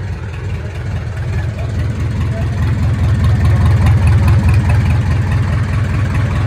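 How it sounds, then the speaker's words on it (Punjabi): Powertrac diesel tractor engine running steadily after fuel pump timing work, a loud, close, continuous low rumble with a rapid throbbing beat that grows slightly stronger midway and holds to the end. "ਇੱਕ ਵਾਰ ਆਪਾਂ ਰਨਿੰਗ ਕਰਾਉਂਦੇ ਹਾਂ ਟਰੈਕਟਰ ਦੀ,"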